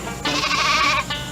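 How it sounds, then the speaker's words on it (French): A sheep gives a single loud, close bleat lasting about a second against a quiet background. "Avec des moutons!"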